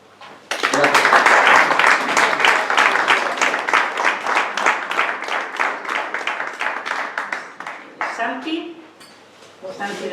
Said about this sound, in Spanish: Me abruma tanto aplauso,